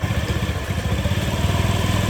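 Honda Metropolitan/Ruckus scooter engine idling with a steady low putter, a fast even pulse throughout, close and moderately loud, no voices.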